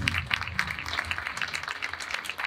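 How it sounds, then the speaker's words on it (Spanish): Conference audience applauding a speaker, steady dense clapping throughout the short stretch, moderately loud and with no talk over it. "Vamos a recibirlo con un fuerte aplauso"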